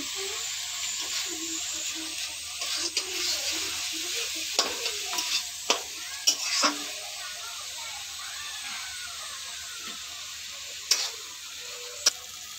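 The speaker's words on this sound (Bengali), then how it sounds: "এবার এটাকেও ভালো করে আমি ভেজে নেব" Onions and tomato frying in a pan for Bombay pav bhaji, a soft continuous sizzle with occasional sharp spatula clicks and scrapes, heard close up with no talking.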